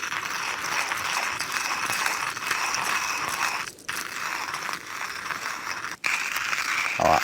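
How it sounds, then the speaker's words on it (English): A hand-cranked coffee bean grinder is used at a motorcycle wild camping spot, making a continuous close, gritty crunching and grinding with two short pauses as the crank turns. "a coffee bean grinder for actual super fresh coffee"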